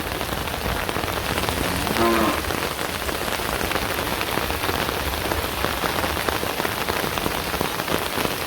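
Heavy rain pours down in a dense, steady hiss, drumming continuously on surfaces nearby with no break for the full stretch.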